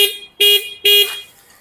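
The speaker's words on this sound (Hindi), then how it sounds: "ये जो हमारी जावा है, पुरानी जावा, इसका जो हॉर्न है" Horn of an old Jawa motorcycle blasting in short, loud, buzzy toots, with a tail of one at the start followed by two clear honks in quick succession, recorded close up.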